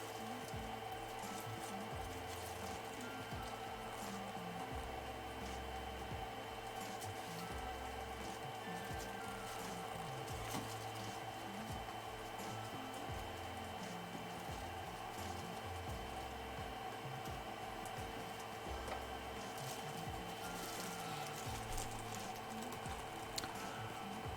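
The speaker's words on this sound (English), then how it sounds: "I'm using Octoprint to raise my gantry up." A Creality Ender 3 3D printer raising its gantry along the Z rod, a steady motor whine and hum with faint ticking that runs unbroken for over twenty seconds.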